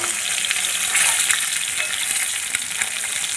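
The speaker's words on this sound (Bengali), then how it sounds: "মাছ এপিট ওপিট লাল লাল করে ভালো করে ভেজে নিয়েছি" Rohu fish pieces frying in hot oil in a pan: a loud, continuous crackling sizzle, close up and unbroken, with small spatters popping throughout and no voices.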